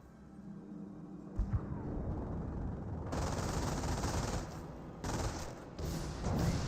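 Sustained automatic fire and scattered shots from a World War II battle in the strategy game Company of Heroes, with dense crackling volleys that swell and cut in and out against a rumbling backdrop.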